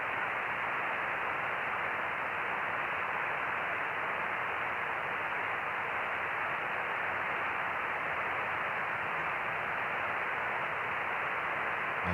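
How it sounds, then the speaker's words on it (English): Steady hiss of white-noise static from an amateur radio, constant and unbroken throughout, with no voices. "can you still hear the white noise from the radio?"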